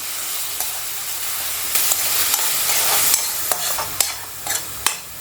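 Onion paste ground from a large onion frying in a pan for brinjal chutney, a loud continuous hiss with a brief surge of sizzle and sharp spatula taps and scrapes near the end.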